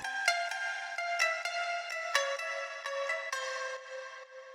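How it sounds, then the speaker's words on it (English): A tumbi, the Indian plucked string instrument, plays a bright, twangy melodic phrase in FL Studio, with sharp repeated plucks in a steady rhythm and no voices. "this tumbi sound. It's an Indian instrument,"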